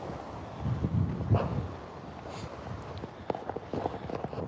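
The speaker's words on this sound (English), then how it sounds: "Sorry if it's a bit windy." Gusty wind buffets the microphone on a beach, rumbling unevenly, with faint footsteps and movement underneath.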